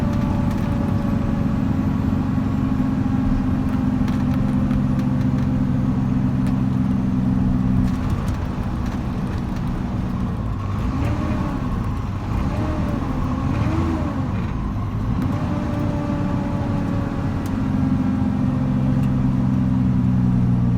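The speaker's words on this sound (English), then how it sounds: "It's not technically an engine brake, right? No, it's an exhaust brake." Engine noise from a 2013 Kenworth T370 wrecker with a 350 HP Paccar PX9 engine and exhaust brake, driving in Sedona: a steady, loud low drone that shifts pitch midway, with rising and falling swells as the exhaust brake works.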